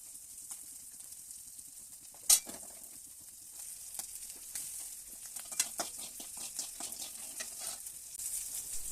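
Asafoetida, salt and fenugreek powder fry in oil for mango pickle, a soft steady sizzle with gentle stirring scrapes and one sharp spoon clink against the pan.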